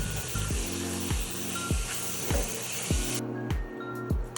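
Spoon mixing dried basil, oregano, cayenne and smoked paprika in a cooking pan for a vegan lentil and walnut bolognese: a regular series of scraping strokes about twice a second over a faint sizzle.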